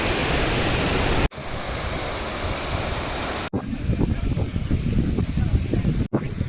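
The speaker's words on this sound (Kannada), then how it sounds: "welcome to ಬೆಳಗೋಳಕಟ್ಟೆ water fall" Rushing water pours steadily over Belagolakatte waterfall near Sagarakatte bridge, a loud, continuous broadband roar close to the microphone, broken by brief cuts between shots.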